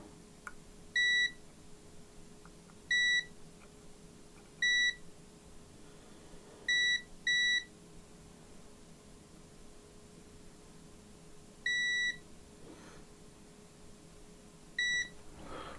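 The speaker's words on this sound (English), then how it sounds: "Set in beep mode and check a few capacitors." A multimeter in continuity mode beeps while probing capacitors on an HP Pavilion gaming laptop board under repair: about eight short, clear, identical beeps at irregular intervals, some in quick pairs, over a faint steady hum.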